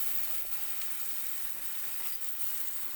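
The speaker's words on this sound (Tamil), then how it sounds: "தேவையான அளவுக்கு உப்பு ஆட் பண்ணிக்கலாம், ஒன்ஸ் அகெயின் சாட்டே பண்ணிக்கலாம்" Mint leaves with salt sautéing in a pan, a steady soft sizzle and hiss with faint occasional stirring clicks, continuous and fairly quiet, no voice.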